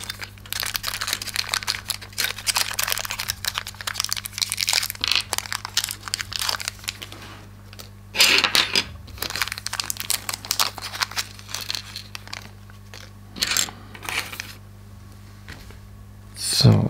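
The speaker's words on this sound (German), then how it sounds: "dann müssen wir jetzt hier mal erstmal alles auspacken" Plastic packaging crinkling and tearing as parts of a Transformers Optimus Prime model kit are unpacked, a busy close-up run of rustling and crackling with a few louder crunches and short pauses.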